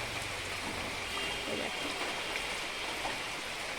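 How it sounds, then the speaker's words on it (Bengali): Heavy rain falling outside a house facing a main road, heard as a steady broadband wash of downpour without distinct drops. "দেখো বাইরে কি প্রচন্ড বৃষ্টি।"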